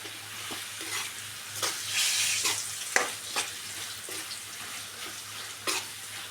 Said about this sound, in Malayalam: നന്നായിട്ട് മിക്സാക്കി കൊടുക്കാം